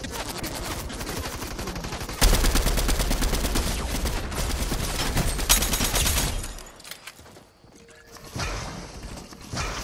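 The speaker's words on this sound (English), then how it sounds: "Oh my god, people are shooting at me." Rapid bursts of gunfire crackle in a Fortnite match, dense automatic fire swelling suddenly and hammering for several seconds before thinning into scattered shots and quieter game noise.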